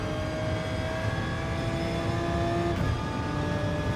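An Audi race car engine in GT Sport drives laps with a steady, loud, high-pitched drone that drops in pitch near the end as it shifts, with no talk.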